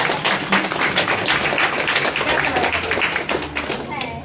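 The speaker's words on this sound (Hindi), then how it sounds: "ताली तो बता दीजिए" An audience at a free health checkup camp in Gorakhpur breaks into a burst of clapping, a dense patter of many hands lasting a few seconds, with a voice talking over it.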